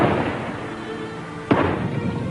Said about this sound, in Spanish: continúan las explosiones